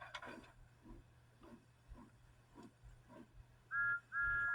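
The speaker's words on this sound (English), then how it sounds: "Then he heard a whistle." Two short, clear whistle toots sound near the end, following soft rhythmic chugging of a train in the background.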